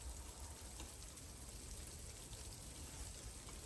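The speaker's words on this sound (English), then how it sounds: "Nice bit of rain coming down now, clouds getting darker." Light rain coming down under darkening clouds, a soft, steady, faint patter and hiss lasting the whole stretch with no voices.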